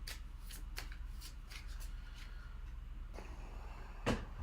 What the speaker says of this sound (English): Let me give this one more shuffle.